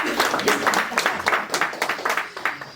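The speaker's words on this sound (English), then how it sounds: "So with a big round of applause, please welcome Zelda" Audience at a training session claps to welcome a speaker, a short run of distinct, uneven hand claps from a small group, fairly close, with murmured voices underneath.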